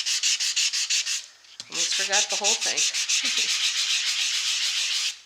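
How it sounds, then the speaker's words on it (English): Steady rhythmic rasping of a fine-grit sanding block rubbed back and forth over embossed paper, close up, briefly interrupted by a short spoken remark before the strokes resume. "And I'm just sanding it."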